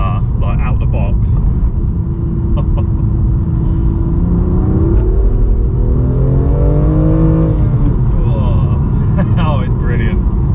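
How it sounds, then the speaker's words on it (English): A BMW M2 Competition's engine drones steadily through a short drive, its tone rising and falling with the revs, while someone talks over it throughout. "that has been an incredibly short drive of the M2 competition"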